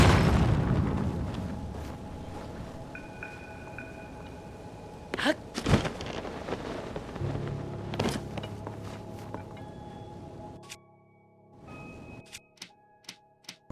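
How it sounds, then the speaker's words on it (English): Bomb flower blasts in a video game: several sharp booming bursts with rumbling tails stand out over a busy game soundscape of tones and effects, followed by a quieter stretch with scattered pops. "Let's try a bomb flower on it."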